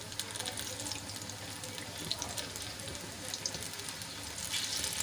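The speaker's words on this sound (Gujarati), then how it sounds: "તેલ આપણું ગરમ થઈ ગયું છે તો એમાં આપણે મરચાં મૂકવા માંડશું" Chili pepper fritters (bhajiya) frying in hot oil in a small kadai, a dense continuous crackling sizzle at close range with scattered sharper pops, steady throughout.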